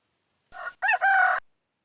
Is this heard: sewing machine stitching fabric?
no